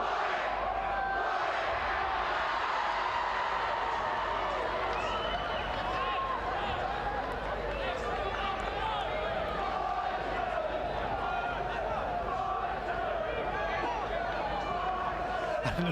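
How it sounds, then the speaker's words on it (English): Warwick School fans cheering at a schoolboy under-15 rugby semi-final against Brighton College, a steady distant crowd roar from the stands under continuous commentary. "in response to the Warwick cheer, there's about 7 Brighton fans copying what Warwick do one other end of the stand"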